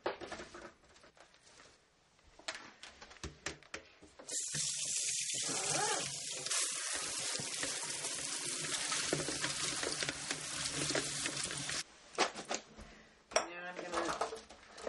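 Kitchen tap water running steadily into a sink while cut Brussels sprouts are washed, a loud continuous hiss starting a few seconds in and stopping near the end, with quieter handling noise around it.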